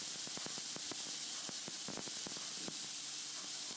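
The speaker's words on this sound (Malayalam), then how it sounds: "ഇത് ചൂടാകുമ്പോൾ നമുക്കിതിലേക്ക് റെഡിയാക്കി വെച്ച ചിക്കൻ വെച്ച് കൊടുക്കാം" Marinated chicken for shish taouk sizzles in hot olive oil on a grill pan, a steady broadband hiss with scattered sharp pops and crackles throughout, close and continuous with no talking.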